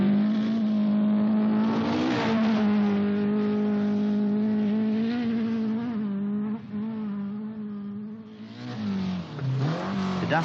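Greg Carr's Ford Escort rally car on a special stage, its engine revving hard and holding a strong, buzzy pitch, with shifts and a dip near the end before it climbs again.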